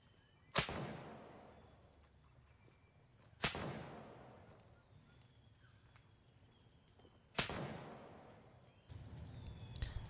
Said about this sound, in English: So now that means you hear the sonic crack before the gunshot.